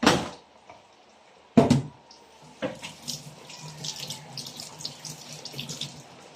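Guavas are rinsed under a running kitchen tap, with a couple of sharp knocks and clatters at the start, then a steady light splash and patter of water on fruit.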